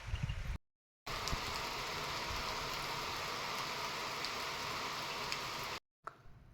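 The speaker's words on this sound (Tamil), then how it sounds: "இப்போ தான் மழை லைட்டாக தூர ஆரம்பிச்சிருக்கு" Light rain falling in Kodaikanal, a steady broadband hiss of drops that runs almost unbroken between short silent gaps at the start and end, with no talk.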